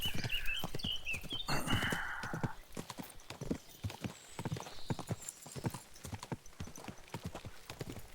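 Horse hooves clip-clop steadily on the ground in Kingdom Come: Deliverance II, a close rhythmic walking gait with a brief whinny near the start and faint voices under it.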